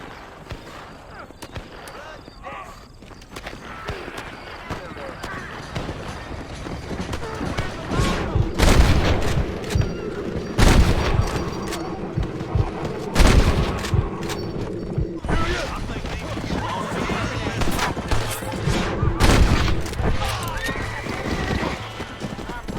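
Gunfire in a Red Dead Redemption gang attack on the frontier town of Armadillo, a series of loud booming shots and volleys mixed with horse hooves and neighing, with someone talking at times.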